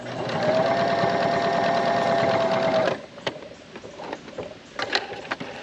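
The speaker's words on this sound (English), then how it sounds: "I drop my foot and I start sewing by hitting the foot pedal." A sewing machine runs in a steady, fast whirring stitch for about three seconds, then stops, leaving quieter clicks and handling noises.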